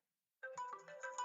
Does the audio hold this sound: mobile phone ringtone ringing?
yes